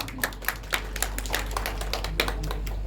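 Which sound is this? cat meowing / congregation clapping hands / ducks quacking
congregation clapping hands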